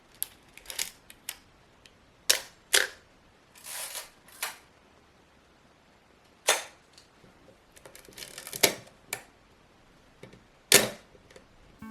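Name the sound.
film camera shutter sounds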